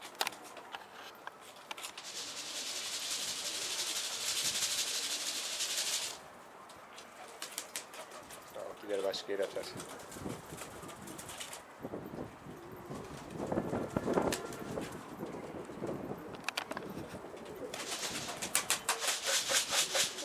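A bird moves and calls softly amid scuffling and a few wing flaps, with faint background noise and quiet stretches between bursts.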